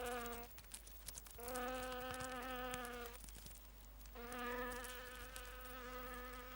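Honeybees buzzing in sustained, droning bursts with short gaps between, a steady pitched hum close by.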